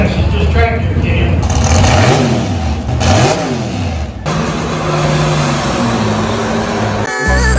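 Pulling tractor at an outdoor North Carolina festival tractor pull, engine revving loud and close with rising and falling pitch sweeps, one hard surge near the end, a crowd and announcer voice underneath throughout.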